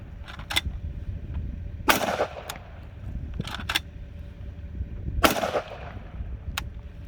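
Saiga 12 shotgun loaded with a 20-round drum firing outdoors, two loud sharp blasts a few seconds apart with echoing decay, plus some mechanical clicks between them.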